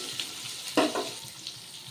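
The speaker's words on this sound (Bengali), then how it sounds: "পেঁপেটা একটু হালকা ভাজা ভাজা হোক" Raw papaya pieces fry lightly in oil for a Bengali fish curry, giving a soft, steady sizzle with a brief scrape or clatter of stirring partway through.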